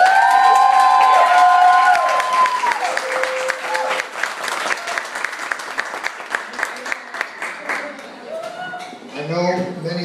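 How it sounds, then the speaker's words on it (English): Audience gives a warm round of applause for a woman who organised get-togethers, dense clapping with some cheers that swells loud at first and then thins, while a voice talks over it near the end. "give her a nice round of applause"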